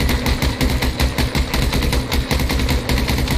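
Fast, rhythmic machine-gun bursts fire continuously in a GTA V roleplay police raid on a favela, each shot loud and close in a relentless even rattle with no voices.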